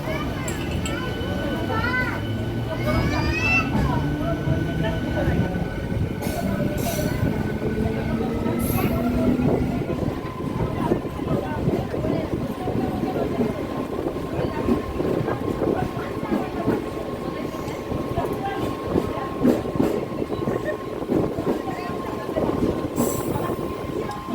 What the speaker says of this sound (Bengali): তো এরপরে আমরা ছেড়ে চলে যাব, ট্রেন ছেড়ে দিয়েছে।